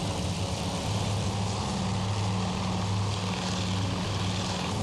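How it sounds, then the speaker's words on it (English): World War II propeller fighter planes drone steadily in a naval combat game, a dense continuous engine roar with a throbbing low hum throughout, loud and without talk. "a couple more airplanes were hit and are going down"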